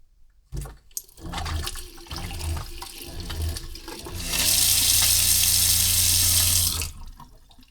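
A caravan water pump starts up after a few clunks, its low hum surging alongside rushing water, then a loud steady flow and whine for a few seconds before cutting off.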